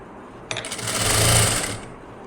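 Sewing machine running steadily for under two seconds as it stitches a blouse seam, starting abruptly, swelling to a loud close whir, then tapering off; no voices.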